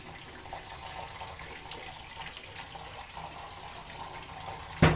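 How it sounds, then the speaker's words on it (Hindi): Tap water runs steadily over freshly boiled noodles in a kitchen sink, a continuous close splashing hiss, with a sharp clatter right at the end. "अब हम इनको पानी ऑन करके इसको डालते हैं जी।"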